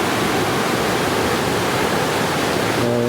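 Steady rushing water from a stream flowing steps from a tiny home, a loud continuous broadband wash with no voices.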